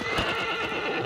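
A horse in Shadow of the Colossus, the PS4 remake, lets out a loud whinnying neigh with hoof clip-clop beneath it, brief and close.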